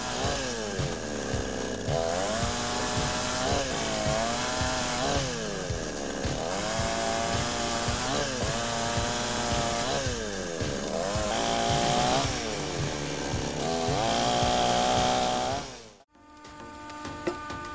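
A homemade automatic firewood processing machine cuts wood with a loud, continuous saw-like engine drone and repeated rising and falling whines as it bites through logs, then cuts off abruptly near the end.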